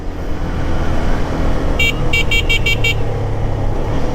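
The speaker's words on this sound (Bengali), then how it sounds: "বিকি ব্রো হর্নটা চেঞ্জ করে ফেলো" A vehicle horn on a busy Dhaka street sounds about five short bright toots in quick succession over a constant rumble of engines and road traffic.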